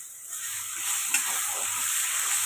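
Ground pointed gourd paste with green chilies fries in a wok with mustard oil, giving a continuous close hiss and sizzle that grows slightly louder midway as it is stirred.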